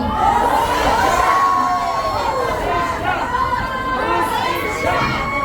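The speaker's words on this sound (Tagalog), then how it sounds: "Sigaw natin ang hostisya para kay Pastor Tiboy" Rally crowd of overseas Filipino workers in Hong Kong shouting chants together, a dense, loud mass of voices filling the whole stretch without pause.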